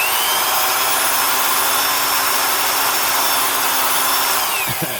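A Milwaukee 1001 1/2-inch D-handle drill, freshly regreased, runs at a steady high-pitched whine for several seconds before winding down at the end, close and loud with no other sounds.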